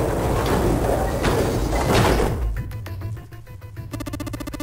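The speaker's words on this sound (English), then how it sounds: "and the gate creaked open" Gate creaking open in the video game Nine Hours, Nine Persons, Nine Doors: a loud, grinding sliding rumble for about two seconds, then a rattling mechanical clatter that settles into a steady buzzing tone.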